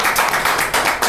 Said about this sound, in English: Clap that.